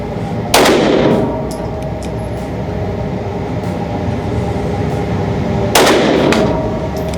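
Two sharp, loud shots from a Taurus GX2 handgun loaded with Liberty Civil Defense ammunition, about five seconds apart, each with a ringing outdoor decay over a steady background hiss.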